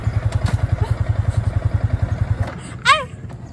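Yamaha R15 V3 motorcycle engine chugging in rapid, loud pulses, then cutting out as it stalls while a novice rider learns the clutch, followed by a short vocal exclamation nearby.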